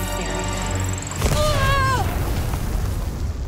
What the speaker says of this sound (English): Oh, geez, a grenade.